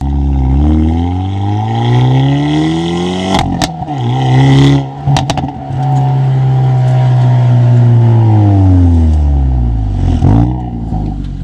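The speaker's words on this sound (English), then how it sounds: "so let's go take it for a drive" A 2024 Hyundai Elantra N with a manual clutch pulls away on a drive, its engine loud and close, revving up through gears with brief interruptions and clunks between shifts.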